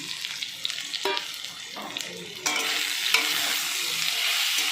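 Onions, kochur loti (taro stolons) and potatoes are stirred in a frying pan: a steady sizzle with repeated scraping strokes, close and fairly loud, growing fuller and louder partway through.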